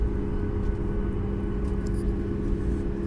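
Inside an airplane cabin during landing at New York, a steady low engine rumble and drone holds continuously and loud, with a faint tick or two above it and no voices.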